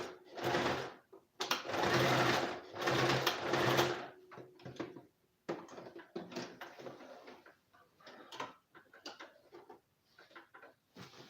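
A sewing machine tacks fabric in short bursts, whirring runs of stitching broken by pauses and lighter stops, close and fairly quiet.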